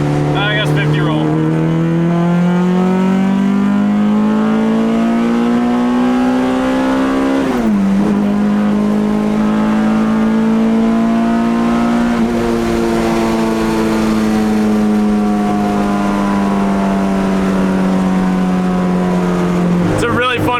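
A full-bolt-on JDM H22A engine in a Honda EK hatchback pulls hard on a dyno in third gear, a loud, continuous rising drone with two brief dips where the revs drop and climb again.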